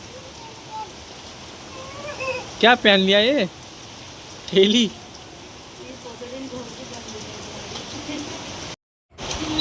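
Heavy rain pours steadily on an outdoor farm setting, a dense even hiss throughout, with people talking briefly over it.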